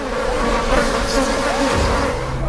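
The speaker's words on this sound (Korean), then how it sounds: "모래 폭풍으로 보였던 것은 거대한 파리띠였습니다." A loud, dense buzz of countless flies fills the air, a constant droning swarm close by.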